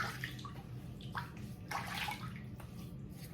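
Cold tap water runs steadily for a wet shave on a hot day, a continuous close splashing hiss with brief brighter surges as hands move through the stream.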